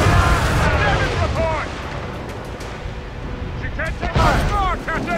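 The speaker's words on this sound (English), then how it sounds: "They're firing mortars!" Heavy booms from ship cannons and mortars roll across a naval battle in the Assassin's Creed Rogue video game, with rumbling blasts at the start and end and a voice talking amid the din.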